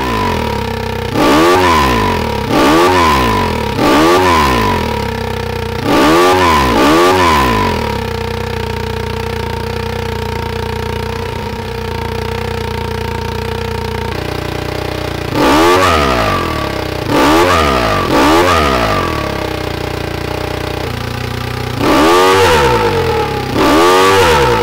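Simulated car engine from engine simulator software, revving repeatedly in loud, sharp bursts with a steady idle hum in a long gap between the rev sequences.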